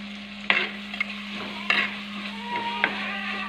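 Fenugreek seeds, ginger and garlic sautéing in a clay pot for a sardine curry make a steady close sizzle, broken by a few sharp spoon scrapes against the pot and a low hum underneath.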